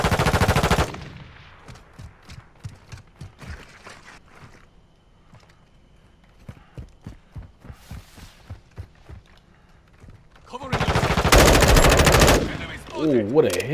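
Gunfire from the Call of Duty Modern Warfare 2 beta: a loud burst of automatic fire, then quieter scattered shots and footsteps, then another long, loud sustained burst near the end.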